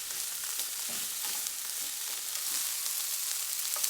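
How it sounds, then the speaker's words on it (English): Garlic and green beans sauté in a pan, giving a steady, bright sizzle with soft stirring scrapes underneath, close and continuous without voices. "crush the garlic directly into the pan and stir in for another 30 seconds or so"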